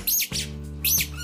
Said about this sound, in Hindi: चिड़िया रानी किधर है?